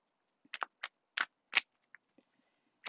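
Oracle cards being shuffled close by, in a handful of quick, crisp riffling bursts with short pauses between them, and no one talking.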